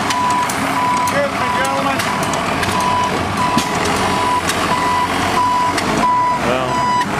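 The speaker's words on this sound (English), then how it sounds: "we got a lift truck too" A lift truck at an outdoor tractor show sends out steady, evenly spaced reversing beeps over a rumbling engine, loud and close, with someone speaking briefly over it.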